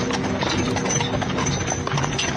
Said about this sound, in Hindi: घोड़े फिर से शांत हो गए और बग्घी चल पड़ी।